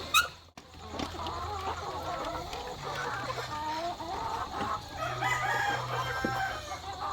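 A rooster crows among clucking chickens nearby, with continuous farmyard chatter of hens and a low background hum.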